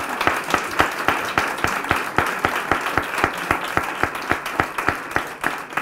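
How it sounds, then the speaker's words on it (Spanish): Applause at a music conservatory's start-of-year presentation, with a few people clapping in a distinct, fairly regular rhythm of sharp separate claps that sound close and moderately loud. "Un aplauso para él."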